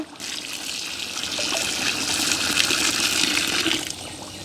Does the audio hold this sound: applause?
no